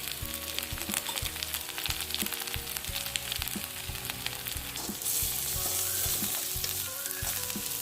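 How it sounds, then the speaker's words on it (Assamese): Spices with cumin powder fry in a pan with a steady crackling sizzle and intermittent stirring scrapes. The sizzle swells brighter and louder after about five seconds, and no voices are heard. "এতিয়া এইবিলাক ৰঙচুৱা হৈছে, মোৰ মছলাখিনি ভাজ খাইছে ভালদৰে"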